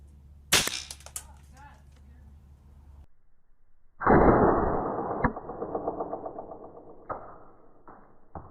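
Exploding pellets set up as a target and shot outdoors: a sharp crack, a pause, then a loud burst followed by a sputtering run of fizzing pops and a few late snaps, fairly close.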